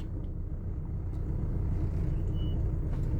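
A car drives along a road, heard as a close, steady low engine and tyre rumble that holds evenly throughout.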